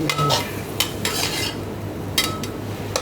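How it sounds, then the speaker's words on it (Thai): Shanghai chili paste being stir-fried in a pan, a few sharp scraping strokes of a spatula against the metal with pauses between them, over a low steady hum. "ผัดไปเรื่อยๆครับพี่น้อง ผัดจนมันได้ที่"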